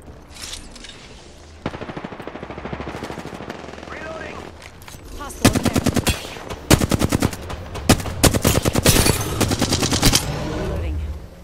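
Gunfire in the video game The Medium: loud, rapid automatic bursts with some heavier single cracks, coming in clusters over continuous background noise, with a voice speaking at times.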